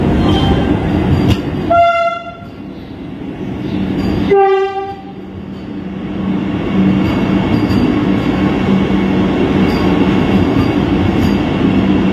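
A Vande Bharat train sounds two long horn blasts a couple of seconds apart over a steady rumble of rail traffic as it arrives at a station.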